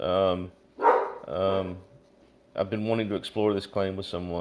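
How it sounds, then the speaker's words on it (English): Dogs in a room, a couple of sharp barks in the gaps between a person's speech, close to the microphone and fairly loud. "sorry about my dogs there."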